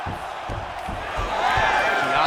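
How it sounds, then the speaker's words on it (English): Arena crowd in EA Sports UFC 5 cheering steadily throughout an MMA bout, a broad roar that swells louder toward the end, with faint thuds underneath. "The crowd goes crazy because they appreciate the high-level grappling that these two women just exhibited for them."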